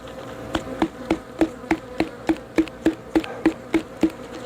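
Honey bees buzz steadily during a horizontal hive inspection and varroa sugar-roll test, while sharp regular knocks, about one every third of a second, tap a container to shake the bees loose.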